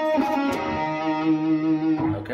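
Guitar playing the opening phrase of a song: a short sustained melodic line with a slide between notes and a distorted tone, played close and alone.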